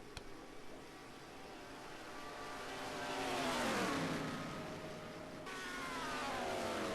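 Race cars in a Daytona sim racing game, a Corvette and an Aston Martin, engines revving and passing with a rising then falling pitch sweep, steady mid-loud engine drone throughout with no talk.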